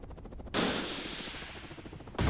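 Sustained gunfire from a helicopter in the video game Call of Duty: Black Ops Cold War, a loud crackling roar lasting over a second and a half before cutting off, with quieter game sounds around it.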